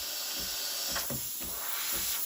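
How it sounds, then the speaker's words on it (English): Breville Barista Express BES870 espresso machine pump pulsing under a steady steam hiss, with a few soft rhythmic throbs recurring about every half second, close and continuous. "once you hear the pump pulsating"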